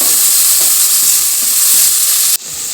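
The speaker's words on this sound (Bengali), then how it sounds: "পেঁয়াজগুলি কুচিগুলো দিলাম, ভেজে নিই" Chopped onions fry in a hot pan with a loud, steady, close sizzle that cuts off abruptly near the end, leaving a quieter hiss.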